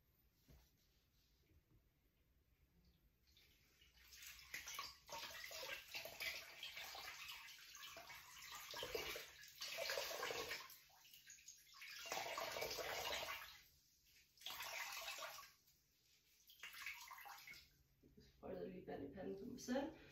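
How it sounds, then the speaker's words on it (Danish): Water sloshes and drips as dyed wool yarn is wrung out by hand, arriving in wet bursts of squishing and splashing with short quiet gaps between them, close and fairly soft. "vi tager den og presser det værste vand ud af garnet her."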